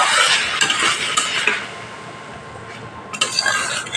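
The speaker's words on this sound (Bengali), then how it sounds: "এখানে এবার পুঁটি মাছগুলো আমি দিয়ে হালকা হাতে নাড়াচাড়া করে দেবো।" Puti fish curry is stirred gently in a pan, with close scraping of a spatula against the metal over a soft sizzle, several strokes followed by a brief pause and more stirring.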